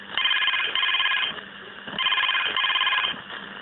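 A telephone rings for an incoming call on a Chhattisgarhi radio show, two loud electronic trill bursts separated by a pause, close and clear with no talking over it.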